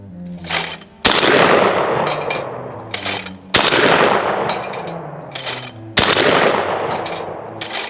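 A Breda Prola two-trigger, two-magazine automatic shotgun fires three loud, sharp shots a couple of seconds apart, each with a long ringing echo, and no voices.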